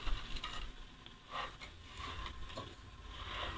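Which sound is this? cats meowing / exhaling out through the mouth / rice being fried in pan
rice being fried in pan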